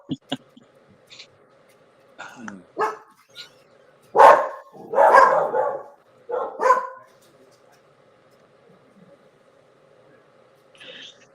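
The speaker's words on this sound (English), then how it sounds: "Dogs." Dogs bark in several sharp bursts, near and fairly loud, with gaps between barks and a brief whimpering yip, some of it mixed with talking voices.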